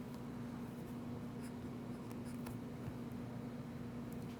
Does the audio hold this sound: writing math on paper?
yes